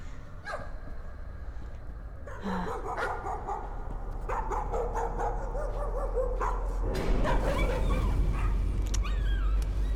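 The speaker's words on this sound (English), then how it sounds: "No, it's a hellhound, and its buddy is just fried." A hellhound in the horror video game Layers of Fear barks, yips and whimpers in repeated bursts over a low, droning ambient rumble, the canine cries coming close and growing busier toward the end.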